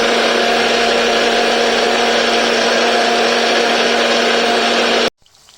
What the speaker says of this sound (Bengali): চলো মশলাটা পেস্ট করে নিই।